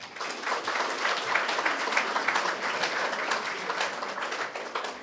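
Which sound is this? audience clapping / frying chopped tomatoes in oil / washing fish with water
audience clapping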